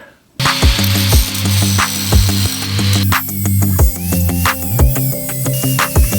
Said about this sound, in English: I've got most of it ground off at this point with the grinder, the grinding wheel